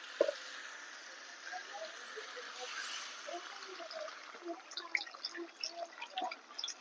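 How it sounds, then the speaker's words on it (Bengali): Water trickles and drips into a pan of potato and spices being cooked for a potol chingri dish, a soft, close pouring with faint splashes under a steady background hiss. "এবার আমি এর মধ্যে দিয়ে দেবো জল"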